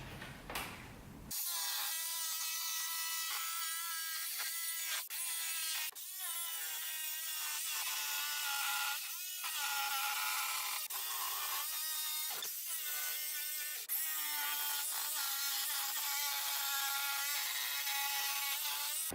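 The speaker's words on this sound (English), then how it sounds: "So now we're going to use the jigsaw on this line as close as we can" An electric jigsaw cuts along a marked line in wood for an Atari cabaret arcade cabinet build. It runs as a steady, high buzzing whine with brief pauses and restarts, and no voices are heard.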